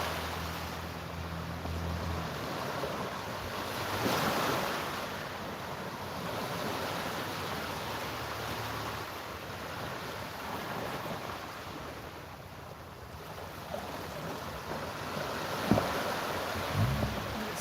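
Ocean waves wash onto a beach close by, a continuous broadband surf roar with some wind noise, steady throughout with no talking.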